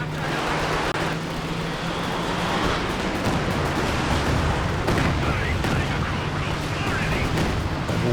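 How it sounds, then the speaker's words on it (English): Dense battlefield din from Company of Heroes 2 with a King Tiger tank's cannon hit among continuous rumbling explosions and gunfire, heavy and sustained, while a commentator talks over it. "Oh, big hit from the KT."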